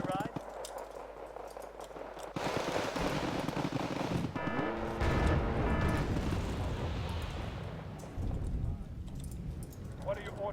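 Units firing weapons in the war strategy game Wargame: Red Dragon, bursts of distant shots and rumbling impacts layered with battlefield noise, with talking over the top.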